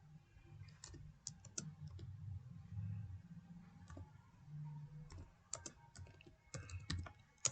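Code being typed on a computer keyboard: clusters of crisp key clicks in uneven bursts, close and fairly quiet, over a low background hum, with no talking.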